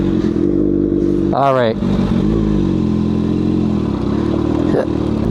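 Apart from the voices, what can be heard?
Kawasaki ZX6R motorcycle engine revving with M4 exhaust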